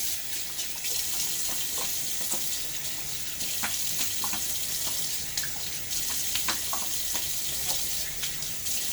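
Running tap water while rinsing during a wet shave with a Gillette Slim razor, a steady close hiss of water with small splashes and clinks, no talking.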